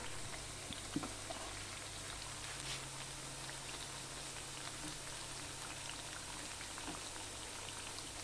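A vegetarian fish fry sizzles in hot oil in a pan, giving a steady, soft crackle and bubbling with a faint hum beneath and a few small pops, no voices.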